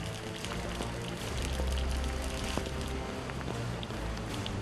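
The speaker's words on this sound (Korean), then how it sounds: "갑작스런 비에 분주해진 작업자들." Sudden rain falling over a large country-house garden construction site, a faint steady patter and hiss of drops on surfaces, with low background rumble and no talk.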